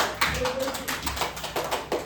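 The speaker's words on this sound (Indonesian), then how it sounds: "Saya tepuk tangan ke diri saya." A speaker in an Indonesian classroom guidance session claps her own hands, a few sparse, moderately close claps spaced irregularly over a couple of seconds.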